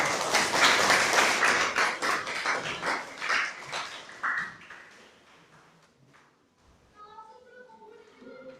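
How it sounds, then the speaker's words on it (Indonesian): Students applauding in a classroom during a microteaching exam: a burst of brisk, close clapping that thins out and fades after several seconds, followed by a single voice speaking. "Kasih tepuk tangan dulu"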